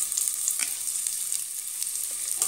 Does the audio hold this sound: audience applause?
no